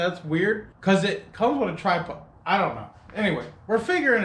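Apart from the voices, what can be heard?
No everyday noise stands out behind the speech.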